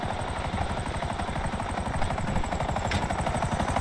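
A helicopter flies close by in a military base setting, its rotor beating with a fast, loud, steady chop and turbine whine. No voices come through.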